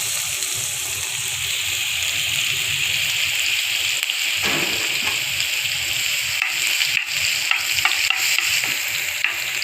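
Onions frying in oil and butter in a pan for dal tadka, a continuous loud sizzle with hissing crackle and occasional stirring scrapes, heard close up and alone without speech.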